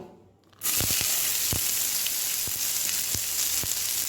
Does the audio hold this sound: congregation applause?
no